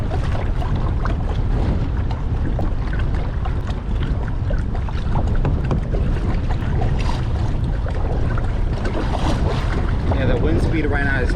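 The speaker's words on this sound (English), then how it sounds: "this trolling motor is not that strong, so it's not ideal for wind like this" A kayak pushed by a weak trolling motor through strong wind of 20 miles an hour or more, heard as constant loud buffeting wind roar over the microphone with water sloshing beneath and a speaking voice partly buried underneath.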